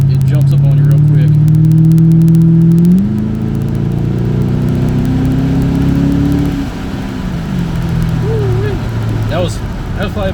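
Engine of a 2007 Ford Mustang GT accelerating at about three-quarter throttle on a wet road, a loud rising drone that shifts up around three seconds in and eases near six, steady and close throughout.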